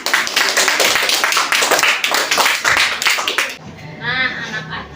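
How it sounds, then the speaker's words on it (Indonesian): A school class claps for a student group: loud, dense, rapid hand clapping close by that stops abruptly after a few seconds, followed by a voice speaking. "berikan tepuk tangan untuk kelompok 2"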